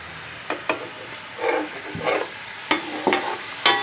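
Onions cooking in a pan for a chicken and vegetable macaroni, with sizzling and several sharp stirring scrapes and clicks spaced through the clip, close and moderately loud.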